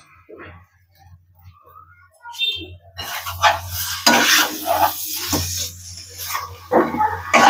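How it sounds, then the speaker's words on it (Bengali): Mutton tipped into fried spice masala in a pan, starting with quiet clinks and then breaking into a louder sizzle with scraping and stirring that continues to the end. "এবার আমি এর মধ্যে অ্যাড করে দেবো মাংসটা।"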